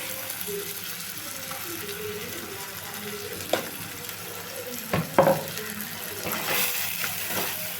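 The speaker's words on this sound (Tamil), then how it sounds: "நெக்ஸ்ட்டு சிக்கன் எண்ணெயில் போட்டு நல்லா வேக வைக்கிறேன்" Chicken frying in oil for dragon chicken produces a continuous hissing sizzle, with a few sharper bursts and a louder, rougher spell toward the end.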